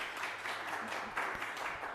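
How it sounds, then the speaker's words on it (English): A church congregation clapping, faint and somewhat distant steady applause that carries on briefly with a few sharper claps toward the end. "I think we can clap for that"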